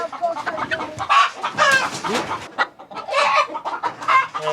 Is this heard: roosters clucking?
yes